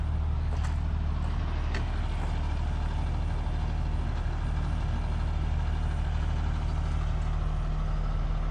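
A truck unit, the rig set up for team driving, idles close by with a steady low engine rumble and drone running throughout, with a few faint higher clicks and hisses over the top.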